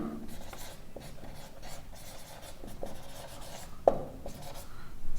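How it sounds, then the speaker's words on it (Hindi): Pen or chalk writing by hand during a geography lesson, a steady soft scratching and rubbing with short strokes and one sharper tap, with no talking. "मैं इसको लिख रहा हूं"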